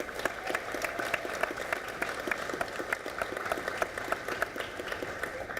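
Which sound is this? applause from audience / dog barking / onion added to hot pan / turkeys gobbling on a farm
applause from audience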